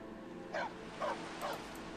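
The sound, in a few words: stray dog barking in video game Skyrim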